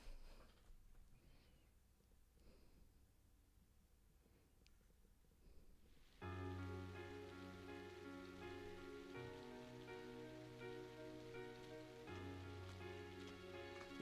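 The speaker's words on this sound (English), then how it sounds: "With summer well underway, a rainy spell seemed to hang over Trista." Steady rain patters in the video game Trails of Cold Steel, a soft even hiss for several seconds before loud music swells in and plays over it.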